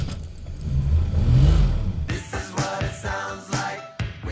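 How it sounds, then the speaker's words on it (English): A Plymouth Valiant V200 Signet with a slant six engine cranks and catches, a low rumbling swell followed by rough bursts of engine noise and clatter, close and fairly loud. "My car finally starts."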